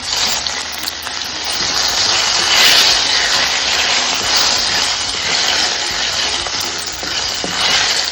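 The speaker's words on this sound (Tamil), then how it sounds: "இது நல்லா மிளகும் சீரகமும் நல்லா பொரியட்டும்." Steady, loud sizzling of pepper and cumin frying in hot oil, a dense crackling hiss that continues throughout with no talking.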